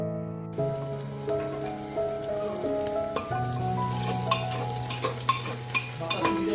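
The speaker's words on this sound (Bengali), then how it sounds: "মাটনের প্যাঁচ ফোড়ন ভাজা চলছে" Panch phoron spices fry for a mutton dish in a home kitchen: a soft sizzle with light clicks and taps of stirring, under steady sustained tones.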